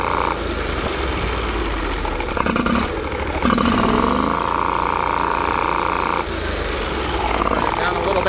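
A Bolens 1600H tractor with a Briggs 20 HP V-twin engine runs loud and close, a throbbing, buzzing drone whose pitch rises and falls as the revs change.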